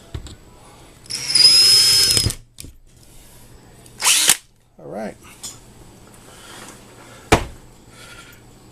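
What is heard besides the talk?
power drill drilling a hole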